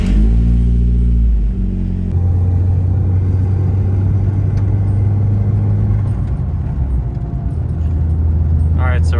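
A car accelerates onto the highway, engine droning loud and close under strong low rumble, with gear changes shifting the pitch, and a voice speaks over it.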